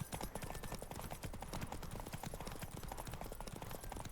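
Horse hooves pound at a fast gallop in The Witcher 3, a dense continuous clatter of hoofbeats close and loud throughout.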